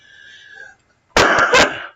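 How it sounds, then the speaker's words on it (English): A single loud, close cough, made of two or three sharp rasping bursts, follows a short faint murmur and a moment of silence. "Maybe my coughing's not working for you."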